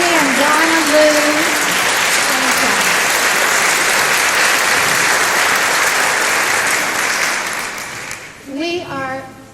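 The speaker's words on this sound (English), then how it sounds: "want to give another applause for our sextet" An audience at a chorus concert applauds for a sextet, a broad steady wash of clapping that fades near the end as a voice starts speaking over it.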